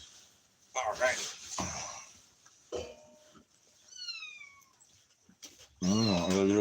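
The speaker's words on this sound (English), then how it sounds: "Little kittens." Young kittens mew in short, high, rising cries from close by, some overlapping, heard between a person's soft spoken remarks.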